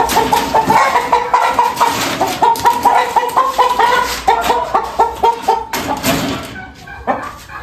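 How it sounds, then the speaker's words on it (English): Loud, steady, rhythmic clucking from a chicken nearby in an African village, repeated many times before trailing off near the end. "Oh, this is the chicken."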